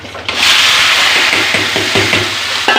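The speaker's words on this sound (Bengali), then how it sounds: "এবার বাগার দিচ্ছি ফেলে দিচ্ছি" Whole spices for shrimp curry sizzle loudly in hot oil, a dense, steady frying hiss with light stirring clatter underneath, close by, with no talk.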